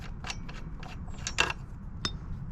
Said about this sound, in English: First turn the bolt out,